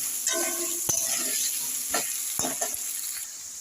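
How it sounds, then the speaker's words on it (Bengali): Potatoes sizzle and hiss in hot oil in a pan, with a spatula scraping and stirring in several distinct strokes over a steady frying crackle, close and without talk. "এখন এই আলুটাকে আমি এইভাবে নাড়িয়ে চাড়িয়ে লাল লাল করে ভেজে তুলে নিচ্ছি"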